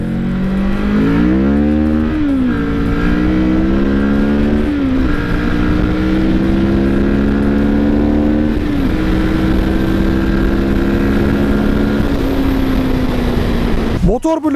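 A Moto Morini Seiemmezzo SCR motorcycle pulls hard up a steep street, its engine loud and close, climbing in pitch through several gear changes before easing into a steady drone, with a rider talking over it throughout.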